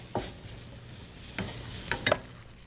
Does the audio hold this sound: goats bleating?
no